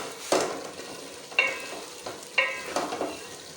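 Tinda and chana dal masala being stirred in a hot pan, with a spoon scraping through it in four or five distinct strokes over a steady close sizzle of frying.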